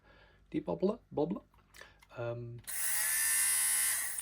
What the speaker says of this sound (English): This is my trusted debobbler.